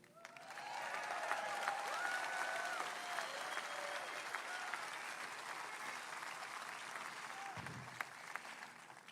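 A crowd at an outdoor campaign rally in Pennsylvania applauds steadily, sustained clapping heard at a distance and fairly faint, with a few cheers mixed in.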